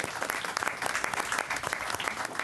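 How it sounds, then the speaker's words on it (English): Dense applause from the audience at a college board of trustees meeting, a steady, close wash of many hands clapping that holds throughout, with little speech. "so that deserves an applause."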